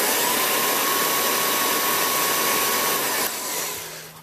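A propane forge blower fan cranked up on a dimmer switch gives a loud, steady broadband whoosh for about three seconds, then drops off and softens as the speed changes, with no talk.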